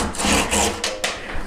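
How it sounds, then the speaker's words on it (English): Hand saw cutting off protruding wooden joint ends on a newly made joinery gate, a few short rasping back-and-forth strokes, close and fairly quiet. "I'll just saw those off."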